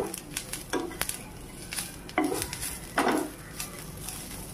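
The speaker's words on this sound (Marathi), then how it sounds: "आता आपण याच्यात अख्खे धने टाकू, हे पण चांगलं भाजून घेऊ" Whole coriander seeds dry-roasted in a pan, with stirring scrapes and light clatter against the pan over a soft, steady sizzle, close by.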